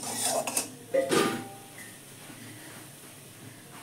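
A lid goes onto a pan of kalai greens with a few metallic clanks of cookware in the first second or so. Quiet room tone follows, with no voices.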